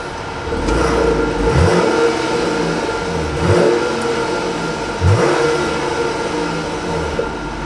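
A 2021 Jeep Grand Cherokee L Summit pulls away with a steady, mid-pitched engine drone that rises and swells in a few surges as it accelerates, heard from inside the cabin with no talking.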